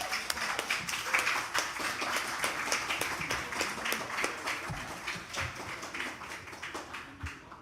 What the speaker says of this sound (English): give yourselves a huge round of applause for being here